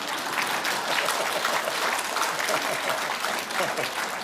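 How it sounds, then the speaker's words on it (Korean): Audience applause at a lecture in Daegu, dense steady clapping from a large crowd filling the hall, sustained at an even level throughout. "이 정도면 서울 사람들은 박수를 막 쳐요"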